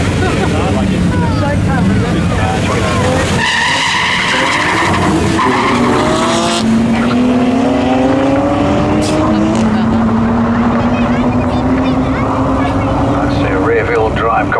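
Rear-wheel-drive VW Golf Mk2 with a twin-turbo Audi 2.7L V6 drag racing a BMW: loud continuous engine roar with rising gear-change sweeps and tire screech, under a commentator's voice.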